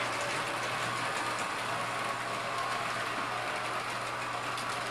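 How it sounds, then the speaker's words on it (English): An S-gauge model train rolls along its track in an automatically controlled two-train layout, a steady close whirring hum of motor and wheels with constant loudness and no talk. "Now this train is slowing down and stopping at the block."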